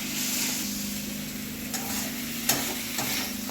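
Leafy greens stir-frying in a pan give a steady close sizzle, broken by a few sharp scrapes and clinks of a spatula.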